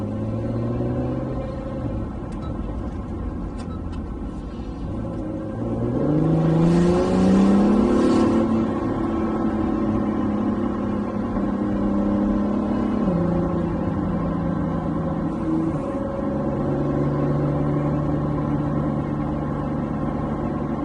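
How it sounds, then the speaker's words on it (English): A 2019 Acura NSX on the move, with steady tire roar from its large tires over a low engine rumble that swells briefly mid-drive before settling back to a constant cabin drone. "I wouldn't call it a quiet car because you get some road noise from the large tires."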